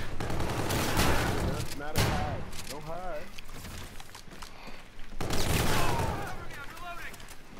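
Rapid gunfire rattles through a Call of Duty: Infinite Warfare match in dense, overlapping bursts and volleys, loud and close. There are short pauses between the bursts, and voices can be heard underneath.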